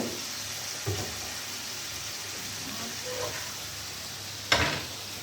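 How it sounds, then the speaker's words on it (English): Shrimps sizzle as they hit a pan of frying vegetables for pasta with scampi, a steady soft hiss broken by a couple of sharp bursts, one near the start and a louder one near the end, with no talking. "the shrimps are ready, so I'm gonna add them to our vegetables"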